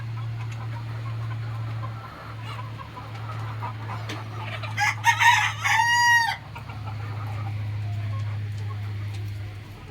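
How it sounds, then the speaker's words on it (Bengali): A single rooster crows loudly at a poultry farm for a couple of seconds partway through, over a steady low mechanical hum that runs throughout. "আমার এখানে মোরগ বেশি আছে"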